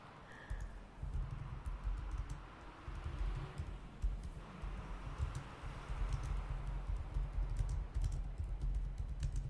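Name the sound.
typing notes on a keyboard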